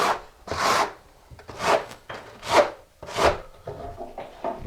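A trowel scrapes thinset mortar across the back of a ceramic tile in repeated rasping strokes, about five close, steady passes with brief pauses between, and no talk.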